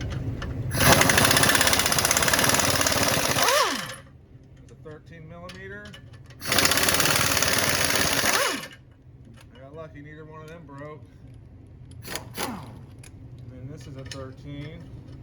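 Two loud bursts of a power tool loosening bolts during transfer case removal on a 2016 Chrysler 200S. Each burst is a harsh rattling whir lasting about three seconds, and quieter clanks and handling noise sit between them.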